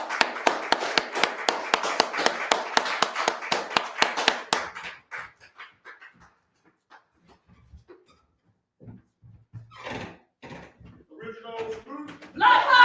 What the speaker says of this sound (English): give a round of applause for Minister Rahim Aton